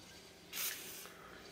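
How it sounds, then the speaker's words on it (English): A single short burst of aerosol lubricant hisses onto a swamp cooler's pulley bearing, close up and alone against a quiet background. "spray there in the bearing part."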